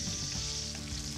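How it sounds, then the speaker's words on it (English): Garlic and onion sizzle steadily in a pot during the making of Barolo-braised beef, a dense, close frying hiss with no voices. "now we go on with the garlic, the onion,"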